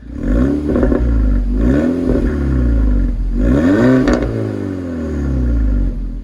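Volkswagen GTI Edition 30 fitted with an APR 3-inch turbo-back exhaust, revved three times in close succession, each rev rising sharply and falling back to a loud, rumbling idle.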